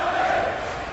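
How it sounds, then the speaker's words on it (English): Darts match crowd in Aberdeen buzzing steadily, a dense continuous murmur of many voices that stays loud and even throughout the brief moment. "And the crowd are buzzing here"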